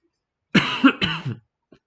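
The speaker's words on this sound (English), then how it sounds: "Damn, I've got a nasty cough today." A couple of harsh, throaty coughs close by, a hacking burst followed by a second, then a faint throat noise after a pause.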